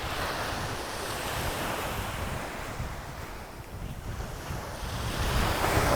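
Ocean surf breaks on a sand-flea beach as a continuous, broad roar of waves with gusty wind buffeting the microphone, swelling slightly toward the end.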